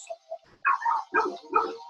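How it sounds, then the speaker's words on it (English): Dogs bark in three rough bursts at moderate distance, with faint whines before them and no speech over the barks. "these dogs are going crazy"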